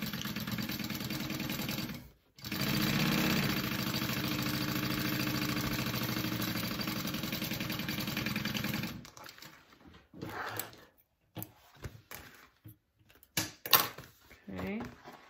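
A sewing machine stitches handbag slip pocket pieces in a fast, steady mechanical whir for several seconds, then stops and gives way to a few short bursts of stitching and handling noise.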